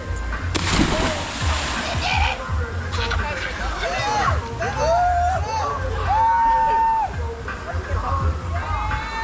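People jumping into the water at Roaring River, Jamaica, on a tour outing: a sharp splash near the start, then sloshing water with voices calling and shouting throughout.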